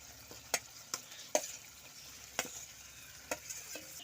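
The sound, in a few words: jackfruit, prawns and potato frying and stirred in masala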